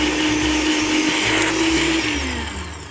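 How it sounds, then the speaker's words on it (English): A food processor whirs steadily as it blitzes fresh basil leaves for Genoa-style pesto, a loud continuous motor drone with shifting pitch as the blades catch the leaves, easing slightly toward the end. "The more basil leaves you use, the easier it's gonna be for your food processor to blitz them."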